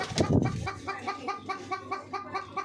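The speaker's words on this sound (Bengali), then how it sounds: "এই যে মুরগি আরেকটা বাইর হয়েছে" A chicken clucks repeatedly in a steady, rhythmic series of short calls, close by, opening with a louder burst.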